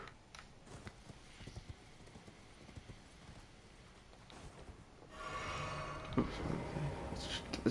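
Horse hooves clip-clop in Elden Ring, a steady rhythmic patter of moderate loudness that runs through most of the stretch before a louder burst of other game noise takes over near the end.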